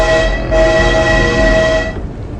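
A train in a video game sounds a sustained, steady horn tone that holds for over a second over a continuous rolling rumble, then cuts off, leaving a softer rumble.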